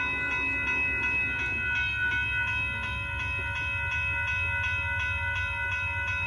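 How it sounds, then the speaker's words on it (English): The northbound Amtrak Texas Eagle passenger train rolls past a road crossing in Austin, Texas, with a steady low rumble of wheels under the ringing tones of the crossing bell, continuous throughout. "Oh, here comes Amtrak."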